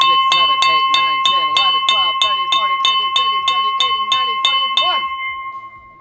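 A bright bell struck repeatedly in a steady, even rhythm, about a dozen and a half close, ringing strikes of a 21-bell salute, with the final tone fading out.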